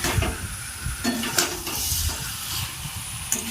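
Marinated broiler chicken frying in a little oil, a steady close sizzle with stirring scrapes and clinks of a utensil against the pan, alone without talk.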